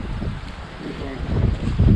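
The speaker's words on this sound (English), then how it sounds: "Windy. Yeah, wind just picked up." Gusty wind buffeting the microphone, rumbling low and rising in strength toward the end.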